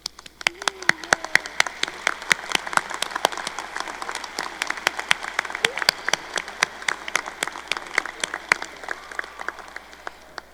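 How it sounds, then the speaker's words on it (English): Audience applause at a college commencement ceremony for the class of 2025, as faculty and staff stand to be recognized: dense, steady clapping from a large crowd lasting throughout, with a faint voice briefly audible early on. "give you a round of applause"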